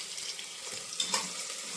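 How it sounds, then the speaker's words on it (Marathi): Masala rice sautéing in a hot pan in a home kitchen, a soft continuous sizzle and hiss with a couple of brief scraping stirs, close by and quiet with no talk. "सॉटे करून घेऊ आपण याला"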